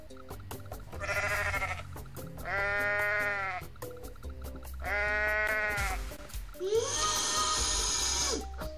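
Goat bleating in the video game Goat Simulator: four loud, drawn-out bleats about a second each, spaced evenly apart over a low background hum, the last one harsher and higher.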